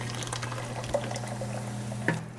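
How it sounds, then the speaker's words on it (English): Broth poured into a pot of cooking garlic for a meatball soup, a steady liquid pouring and bubbling wash with a couple of soft clunks near the end, no talking. "And then add in the broth."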